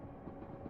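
A Class 375 Electrostar electric train runs in Train Simulator 2022, a low, steady rumble with faint rhythmic rolling, short and fairly quiet, with no speech.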